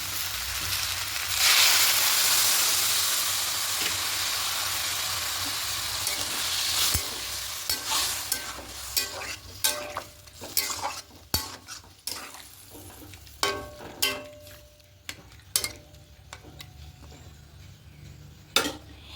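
Water is poured into sizzling masoor dal cooking with pui shak, potatoes and vegetables, setting off a loud hiss that fades. A series of sharp ladle scrapes and clinks against the pot follows as the mixture is stirred.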